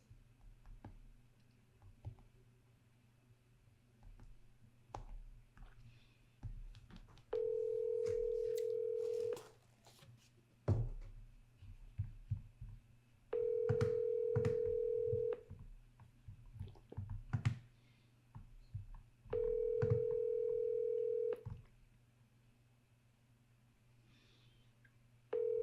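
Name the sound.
telephone ringing tone on an outgoing call to a lead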